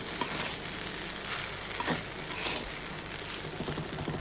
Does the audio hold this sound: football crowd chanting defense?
no